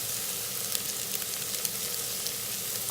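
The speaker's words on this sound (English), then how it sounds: "Ginger and garlic needs to be fried, cooked well." Chopped ginger and garlic fry in oil inside an Instant Pot, giving a steady, close sizzle with small crackling pops throughout.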